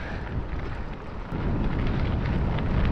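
Steady, blustery wind rumbles and buffets against the microphone on a gravel stretch of the Klondike Highway, growing a little louder and rougher partway through, with no voices.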